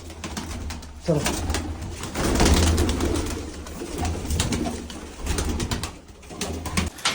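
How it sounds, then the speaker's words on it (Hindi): Pigeons and wild pigeons give soft, continuous cooing as wings flap in bursts while the birds come out and take off. Someone speaks briefly over the close, busy bird sounds. "चलो सारे कबूतर बाहर आ गए हैं दोस्तों"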